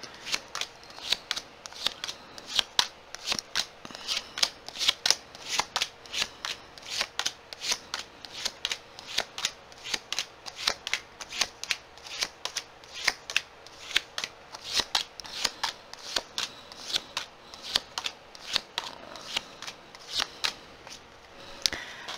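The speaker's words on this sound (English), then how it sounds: "let's just go ahead and get some cards down to see what's going on in your world" Tarot cards being shuffled by hand, a long run of crisp riffling bursts repeating in a steady rhythm, close and clear with no talk over them.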